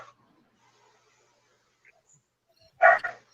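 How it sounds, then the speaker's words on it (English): A single short dog bark breaks out loudly near the end after near silence indoors at home. "The dog noisy."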